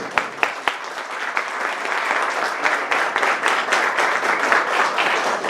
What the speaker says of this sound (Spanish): para quien les pido un fuerte aplauso